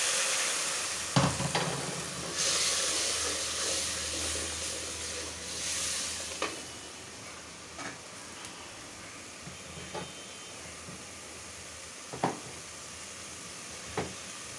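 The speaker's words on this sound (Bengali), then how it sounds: "মশলা কষানো হবে, মাগুর মাছটাও দিয়ে দেবো, একসঙ্গে কষাবো।" Spice paste for magur fish curry sizzles steadily in a hot pan, a continuous frying hiss broken by a few sharp scrapes and taps of a spatula, moderately close.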